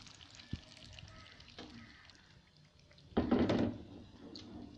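Eggs cooking in a pan over low heat for a cheesy egg and potato breakfast, giving a soft, steady sizzle with a few utensil knocks and a louder burst of frying partway through.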